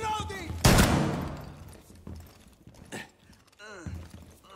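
Gunfire in Rainbow Six Siege: one loud, sharp burst of shots near the start that decays into echoing reverberation, followed by fainter scattered impacts and game sounds, with voices talking at times.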